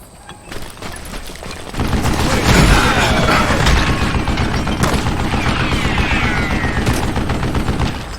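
An old man blasts away on a mounted gun in the western shooter Call of Juarez: Gunslinger, sustained rapid loud bursts of gunfire starting after a quieter opening and rattling on continuously to the end.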